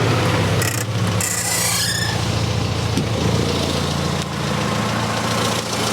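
An engine fitted with an SU carburettor, its damper empty of oil, cranks with a rough rasping churn and catches into a steady, loud running drone that continues throughout, close by.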